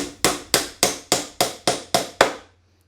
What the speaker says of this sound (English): you can put a couple of nails right here in the ends